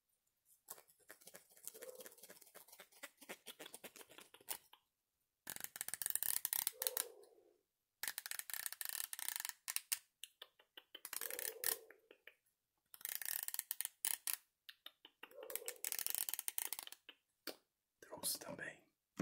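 A comb pulled through hair in close-up ASMR style gives soft scratchy strokes that come in bursts separated by short silences, intimate and quiet, with faint whispering in places.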